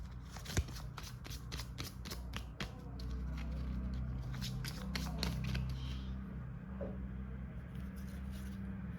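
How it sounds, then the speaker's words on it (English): Tarot cards being shuffled by hand in repeated crisp riffling bursts, close and fairly quiet, with a steady low room hum underneath and no talking. "shuffling your cards for today"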